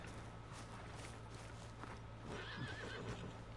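A horse in the Red Dead Redemption II video game gives a faint whinny over steady hoof clip-clops and a low hum, quiet and fairly distant.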